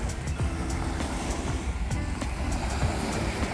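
Sea waves at Al Heera Beach in Sharjah roll and wash onto the shore in a steady, continuous surf roar with faint background hum.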